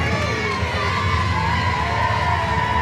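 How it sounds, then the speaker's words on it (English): A wrestling crowd at the Stronghold gives a standing ovation at a women's match, a loud, sustained roar of cheering and shouting that stays steady and dense throughout. "Standing ovation."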